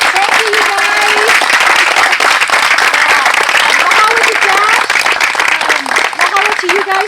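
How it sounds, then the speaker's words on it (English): A crowd at a citrus and sweet potato workshop breaks into loud, sustained applause, dense clapping filling the space while voices cheer and talk underneath. "Can we get another huge round of applause?"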